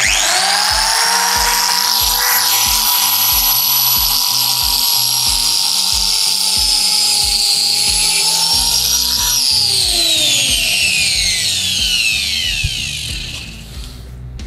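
XENON wall chaser grinder fitted with two blades cutting a slot into a hebel brick wall, a loud, steady high-pitched whining grind with rhythmic juddering that winds down toward the end; no talking.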